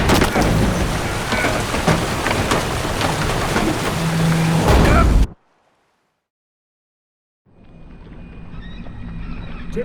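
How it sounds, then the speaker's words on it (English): Heavy storm at sea in The Witcher 3, dense roaring rain and wind with low thunder rumbles for about five seconds, then a sudden silence before the stormy wash returns more faintly with some higher tonal sounds. "Didn't bargain for no storm."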